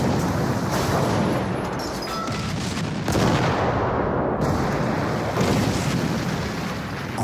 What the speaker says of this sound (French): 1 million d'obus s'abattent sur les positions françaises.